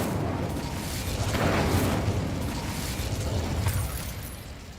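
A fire spell cast in the Hogwarts Legacy video game gives a broad, loud whooshing burst with a booming swell around the middle, carrying on steadily for several seconds without speech.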